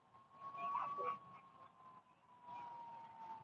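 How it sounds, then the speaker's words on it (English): A faint, distant emergency vehicle siren wails on and off in Greeley behind quiet background noise, its steady tone rising briefly before fading away. "You can hear more emergency vehicles."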